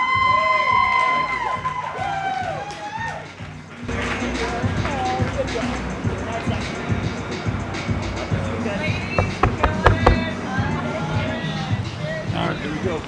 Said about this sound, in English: keep that round of applause going as we welcome up our best man